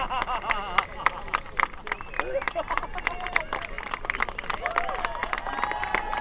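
Spectators at the 2019 Menai Strait raft race clap for finishing rafts outdoors, a dense, continuous scatter of sharp hand claps under crowd chatter and someone talking.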